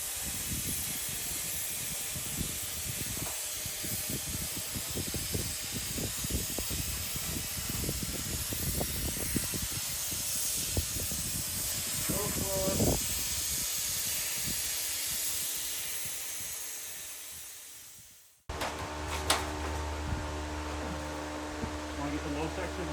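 Spray foam insulation hissing from a Froth-Pak kit while a greenhouse is sealed, a long steady close spray over background clatter that stops abruptly near the end, giving way to a low hum.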